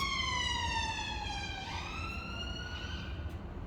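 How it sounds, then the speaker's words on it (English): A siren wails steadily, its pitch sliding down and then rising again, loud and continuous over a low background rumble. "That's a little siren we add just to give you that."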